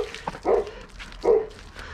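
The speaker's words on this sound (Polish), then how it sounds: "Pies już, Sarunia, już informuje, że ktoś wjeżdża na podwórko" A dog barks at someone driving into a yard, two short, fairly loud bursts about a second apart over faint background noise.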